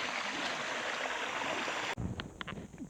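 Strong river current rushing at Tinakayanan Falls in Labrador, Pangasinan, a steady loud broadband wash of flowing water that drops off abruptly near the end, leaving quieter splashes and gurgles.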